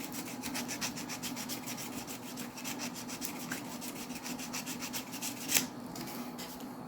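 Sandpaper rubbed back and forth to clean a part of a Tyco Power Torque Baldwin RF-16 Sharknose HO scale model locomotive, a steady run of quick close scratchy strokes with one sharper scrape near the end.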